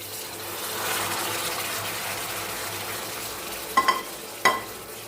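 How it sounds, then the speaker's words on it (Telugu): Wheat flour halwa in a pan on low flame hisses and bubbles steadily as water is stirred in, with two sharp metallic clinks of the spoon near the end. "కలుపుకుంటూ ఉండగా మనకి ఇదంతా కూడా చిక్కపడిపోతూ ఉంటుంది"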